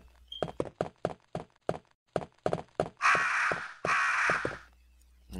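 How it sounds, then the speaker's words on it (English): Crows caw in a string of short, sharp calls in the Resident Evil DS video game, then two long bursts of loud, harsh flapping noise as they attack, all without talk. "if you get it wrong, the crows will come and attack you."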